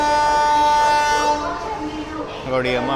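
An Intercity superfast express train rolls in toward a station platform with a crowd waiting, its steady sustained horn-like tones ringing loud and close, then shifting pitch as the train passes, over rumbling rail noise with some talk nearby.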